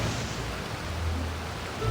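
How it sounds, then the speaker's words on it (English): Rain falls in the Genshin Impact video game as a steady, soft hiss with a low rumble underneath, continuous and even throughout. "just started to rain"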